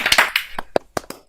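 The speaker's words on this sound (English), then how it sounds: "let's Clap Steve again" A few people clapping for a performer at a virtual open mic, a short burst of sparse, uneven claps that quickly thins to isolated single claps.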